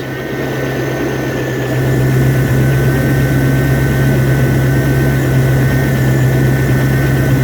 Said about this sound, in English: cylinder number 7 might not be firing properly. 5 is okay. 3 is beautiful.